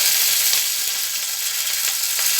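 Ginger, green chilli and curry leaves sizzle steadily in hot oil in a pan, a close, continuous frying crackle with bursts of spatter, no voices.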